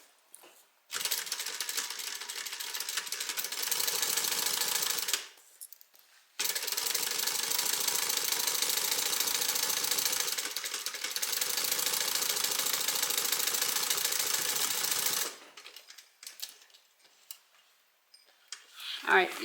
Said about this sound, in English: We're just stitching this pocket closed.